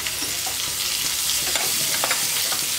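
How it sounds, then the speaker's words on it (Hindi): Ground spices, garam masala and salt fry in a pan for a cabbage, potato and pea curry, giving a constant crackling sizzle broken by brisk scraping and stirring clicks close by. "सभी मसाले को हमें थोड़ी देर फ्राई करना है।"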